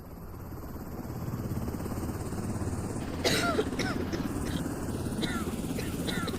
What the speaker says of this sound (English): And she's coughing.